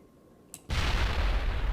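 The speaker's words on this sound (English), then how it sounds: "Did I just throw a grenade?" A grenade explodes in the Mass Effect video game: a short pop, then a loud, sustained boom that rumbles on to the end, with no voices.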